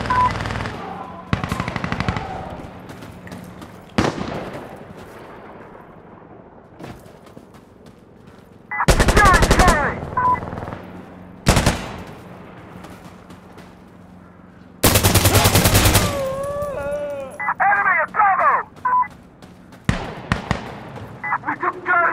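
Bursts of automatic gunfire and single shots from the tactical shooter Insurgency Sandstorm come in loud, separated clusters, with shouted voices between the volleys.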